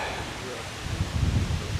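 Wind rushes and buffets the microphone on a walk in Port Douglas, with leaves rustling in gusts; low rumbling and faint talk underneath.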